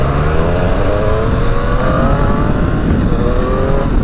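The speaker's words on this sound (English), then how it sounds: "I just can't get over how smooth this engine runs." A Triumph Speed Triple motorcycle engine runs loud and close while riding, a smooth steady drone with pitch rising gradually as it accelerates, mixed with constant wind rush.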